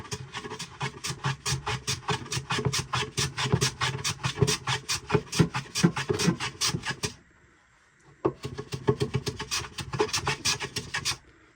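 Wood shavings rasp off the end grain of a wooden head for a seven-string lyre in steady, rhythmic back-and-forth strokes, close and clear. The strokes stop for about a second partway through, then resume at the same pace.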